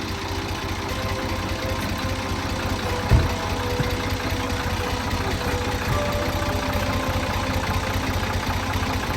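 A tractor engine idles nearby with a steady, low, even chugging throbbing rhythm, one brief louder knock partway through, and no talking.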